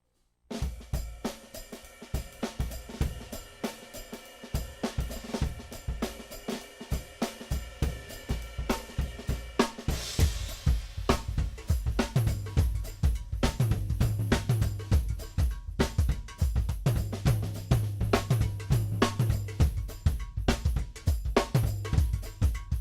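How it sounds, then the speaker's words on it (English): A cowbell strapped to a tambourine clanks in a steady groove, sharp metallic hits over jingles, with low drum-like thumps joining midway. "I've got this cowbell strapped to a tambourine"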